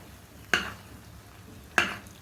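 Ghee being stirred into a dish in a pan while cooking a Sankranti feast: two brief, close scraping strokes of a spoon, separated by a quiet pause.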